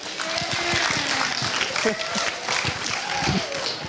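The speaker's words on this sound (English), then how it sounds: "All right, that's round of applause" A freshman class forum audience breaks into a steady round of applause, dense clapping sustained throughout with voices talking and calling out over it.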